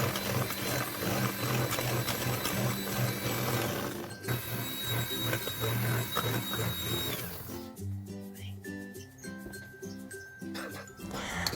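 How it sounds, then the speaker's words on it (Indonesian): An electric mixer whips batter with sugar for a klepon-style sticky rice cake, giving a continuous mechanical whir that shifts in tone partway through, close by and steady. "Kurang lebih untuk memixernya ini 7 menitan ya waktunya, jadi sesuaikan dengan mixer kalian masing-masing"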